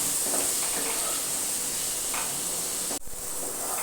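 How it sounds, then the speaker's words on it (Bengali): Cut potatoes frying in a pan with slit green chillies, salt and turmeric powder, a steady close hiss and crackle of hot oil with a brief clatter near the end. "এবার আলুটা একটু ভেজে নেব।"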